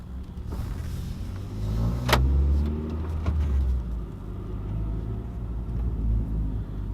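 A 9th gen Honda Accord on new wheels drives along, giving a continuous low road and engine rumble with a brief swell and a sharp click partway through, with no voices.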